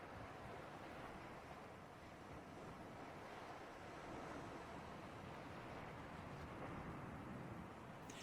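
Steady ocean ambience in the video game Subnautica, a dense, even wash of waves and deep water rumble with no clear breaks, faint and continuous throughout.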